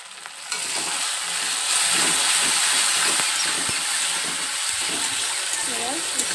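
Ground cumin, coriander and chili powder fry in a pan while being stirred, giving a loud continuous sizzle and hiss with scraping strokes and a few short faint voice sounds.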